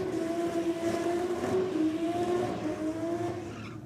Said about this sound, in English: another tough Volkswagen coming out in the rocket lane